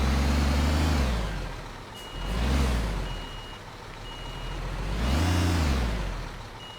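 A truck in the Construction Simulator 2015 video game backs up to hook a trailer, its reversing alarm beeping steadily over a loud, rising and falling diesel engine drone, with occasional air brake hiss.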